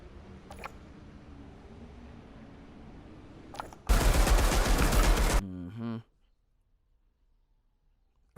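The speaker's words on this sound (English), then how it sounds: "The weapon I'm holding? That's an uncommon automatic shotgun." A single loud burst from an automatic shotgun in the Outriders looter-shooter video game, a dense roar lasting about a second and a half against quiet game ambience, followed by a short mechanical clatter and then near silence.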